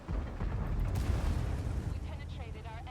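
A deep, booming tank cannon blast in the video game World of Tanks, from a DZT-159 tank, rolls out and rumbles away, with a voice talking faintly beneath the fading echo.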